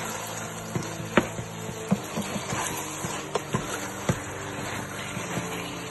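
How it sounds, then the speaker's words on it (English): Oyster sauce chicken sizzles in a pan while being stir fried, a steady low hiss broken by frequent soft clicks and scrapes of the spatula, fairly quiet and close. "Just gonna stir fry this."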